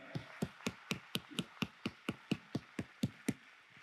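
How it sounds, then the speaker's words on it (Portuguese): A church congregation claps in a steady, even rhythm, about fifteen crisp claps in under four seconds, faint and somewhat distant. "dá uma salva de palmas para Jesus aí, bem forte"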